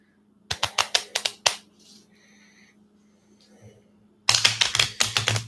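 A deck of tarot cards is shuffled by hand, giving quick bursts of crisp clicking and riffling in two bouts split by a quieter gap, close and loud.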